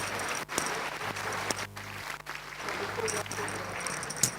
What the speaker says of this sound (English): Once again, applause for our CEO, Nana Kwejo.